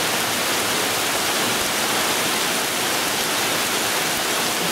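Heavy rain falls during a flood at Lake Cascade, a dense, unbroken hiss of downpour with no voices.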